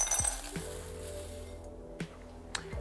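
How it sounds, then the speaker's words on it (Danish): Oats and almonds pour into a larger bowl for a smoothie bowl, giving a few light glassy clinks and soft rattling taps scattered over a quiet background, without speech. "Vi hælder lige hen i en lidt større skål."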